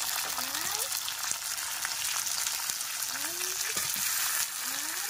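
Five-spice, onion, bay leaf and ripe and green tomatoes fry in hot oil for a curry, giving a constant loud sizzle with occasional stirring scrapes and a faint voice in the background.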